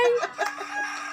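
Rooster crowing once nearby, a short, bright, wavering call that rises and falls, heard alone without talk.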